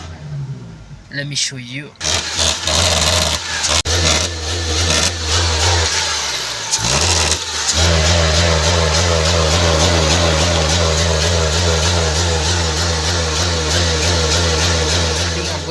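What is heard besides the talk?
car engine revving while trying to accelerate, with a MAF sensor fault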